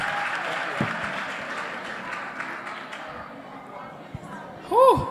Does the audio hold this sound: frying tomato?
no